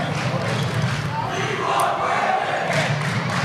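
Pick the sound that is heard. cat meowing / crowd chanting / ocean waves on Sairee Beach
crowd chanting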